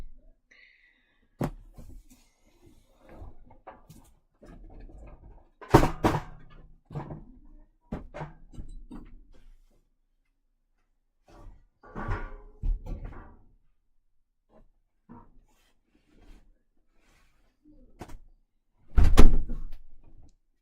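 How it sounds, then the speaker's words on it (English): A door pushed shut with several scattered thuds and knocks spread over about twenty seconds, the loudest bump near the end, mostly quiet room sound between them and no clear talking. "Alright, I'm gonna close this door."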